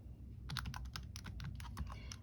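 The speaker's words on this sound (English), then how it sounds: "I know I'm just typing the answer" Rapid keystrokes on a computer keyboard patter in quick irregular bursts, close and fairly quiet, with no talking over them.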